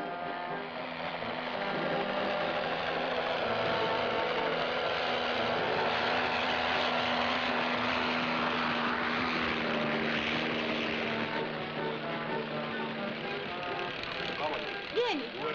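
A propeller airplane drones steadily as it flies slowly overhead, a loud continuous engine hum that holds through the whole stretch, with people talking beneath it.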